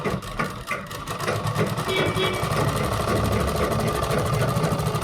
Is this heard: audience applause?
no